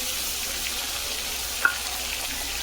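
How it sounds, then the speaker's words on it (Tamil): Mutton keema sautés in a pan with ginger-garlic paste, a steady close sizzle with one sharp clink of a spoon partway through. "அதுக்கப்புறம் இந்த கீமா போட்டுக்கலாம்."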